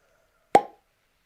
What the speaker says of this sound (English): What a cork pop.